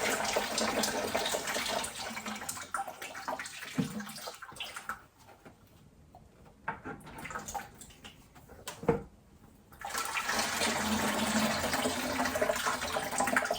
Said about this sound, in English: tilt it back and forth so that the liquid pours out of all the hoses in the system